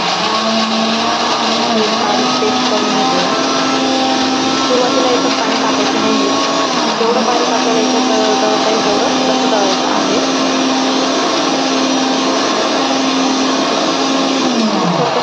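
A kitchen mixer grinder blends fresh juice with sugar, giving a loud, continuous motor whine and rattling churn that holds steady for the whole stretch.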